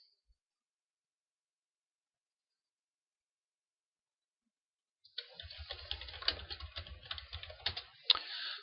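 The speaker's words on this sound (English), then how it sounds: "So I type general grievous" Brief silence, then a burst of rapid computer keyboard typing, close and clattery, continuing to the end without speech.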